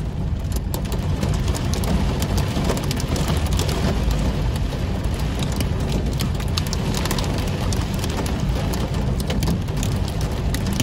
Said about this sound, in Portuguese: Chuva de granizo, nossa. Olha só as pedrinhas batendo no vidro